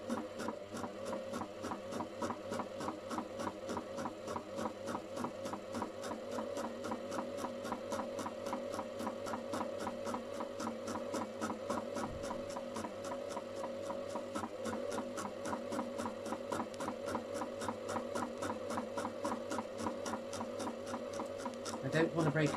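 Sewing machine stitching a thick part of a garment slowly, a steady fast rhythmic needle chatter running continuously with a low hum beneath, no pauses.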